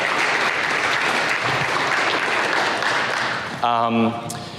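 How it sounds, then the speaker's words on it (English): Steady applause from a keynote conference audience fills the space for several seconds, then fades as a voice begins speaking. "Can we give a round of applause to AdSkate, Akash, and the rest of the guys here?"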